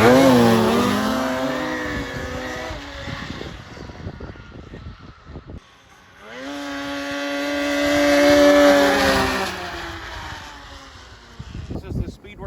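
A Polaris 650/850 snowmobile fitted with a Speedwerx lightweight muffler, 8 pounds lighter than stock, is revved nearby. Its engine climbs in two loud, rising rips, each swelling and then falling back to a rough, burbling idle.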